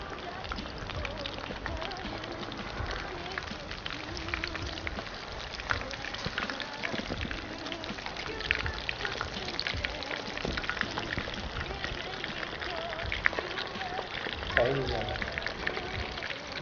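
Chicken pieces coated in red chilli paste frying in hot oil, a steady soft sizzle and crackle running throughout while someone talks over it.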